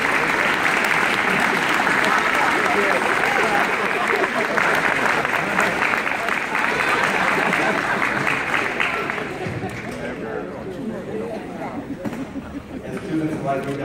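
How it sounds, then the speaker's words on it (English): A school gym crowd at a signing-day ceremony breaks into long, loud applause for the students' parents, with cheering voices mixed in, fading to scattered claps and chatter toward the end. "give your parents a round of applause for giving you to this"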